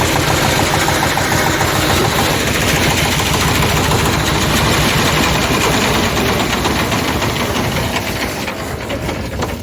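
Engine running at a steady idle while its tachometer is being set, a loud, close, continuous drone with an even low rumble that eases slightly at the end, with no talk.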